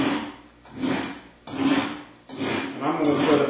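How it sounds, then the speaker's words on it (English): A steel knife edge is drawn across a diamond sharpening plate in four even, rasping strokes with short pauses between them, close and fairly loud. "Now I want to go back to the diamond sharpener again after we've brought an edge up on this"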